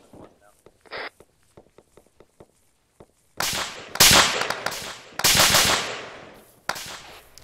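Incoming gunfire in the video game ArmA 3, with scattered sharp cracks first, then dense loud bursts of rounds landing close by, some overlapped by a voice.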